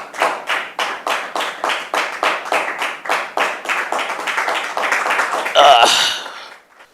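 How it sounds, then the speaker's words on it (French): A small audience claps in rhythmic unison at a New Year 2023 gathering, a steady beat of sharp, close hand claps that swells and scatters into looser applause before fading. "Sous vos applaudissements"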